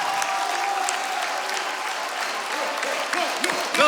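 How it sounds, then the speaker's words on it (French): Concert audience applauding a performer called onto stage, a steady dense wash of clapping throughout with a few cheers and whistles rising toward the end. "Et donc on peut l'applaudir bien fort, Dorian!"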